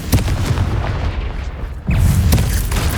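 A Confringo spell blast in Hogwarts Legacy, loud booming explosive impacts with a low rumbling body, one burst early and another heavier one about two seconds in, with no talk.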